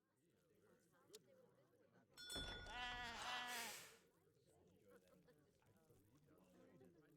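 Sheep bleat in the Age of Empires III video game, giving a single drawn-out bleat that rises up clearly for about two seconds before quieter game sounds and faint talk continue.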